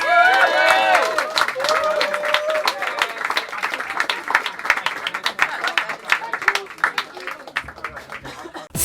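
Audience applause fills the whole stretch, a dense wash of many hands clapping at steady volume, with a brief sung or tonal phrase at the very start.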